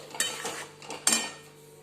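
A spoon scrapes and stirs gram flour in melted vanaspati ghee in a pan for besan laddoo, giving a few soft close scrapes and clinks with no talking.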